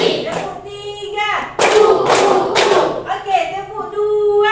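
Schoolchildren in an English class clap in counted bursts on a teacher's cue, sharp group claps alternating with sung or chanted voices.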